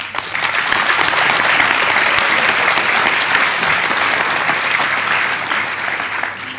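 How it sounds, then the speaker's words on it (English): Sustained audience applause at a school's 60th anniversary celebration, a dense, steady wash of clapping from a large crowd that holds loud and even for several seconds before easing slightly at the end. "Let's clap to the founder,"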